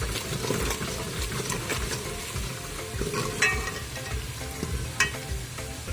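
Turmeric and salt are stirred into a frying pan for a potato and capsicum dish, a steady close sizzle broken by irregular scraping and clinking of the spoon against the pan.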